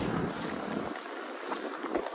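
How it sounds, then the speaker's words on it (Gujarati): Sea wind blows near the coast at Dwarka, gusting and buffeting the microphone in a rough, rumbling rush that softens briefly and then flutters on, with no voices. "દરિયામાંથી આવે પવન"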